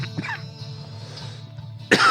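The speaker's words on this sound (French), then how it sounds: "Désolé, je tousse." A single close cough near the start, then quiet room tone, ending with a louder burst of noise.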